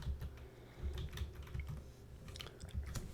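Quiet, close-up typing on a computer keyboard as text is entered, with irregular clusters of soft key clicks and brief pauses between bursts.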